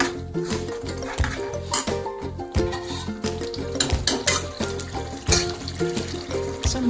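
Chicken fry masala being stirred in a pot, a steady run of scraping, clattering spoon-on-metal strokes with a soft wet sizzle underneath, close and moderately loud with no voices.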